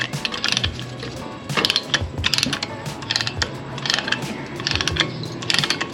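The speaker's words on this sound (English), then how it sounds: "this is a Lang caliper press. This has dual pistons, so this makes it a lot easier to compress" A Lang dual-piston caliper press on an Infiniti Q50 brake job ratchets close by, pushing the brake pistons back. Metallic clicks come in rapid bursts with short pauses between the runs.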